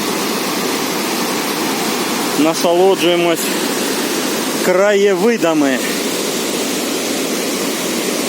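Probiy waterfall on the Prut river in Yaremche in the Carpathians roars as a steady, loud broadband wash of rushing water throughout, with two people briefly talking over it.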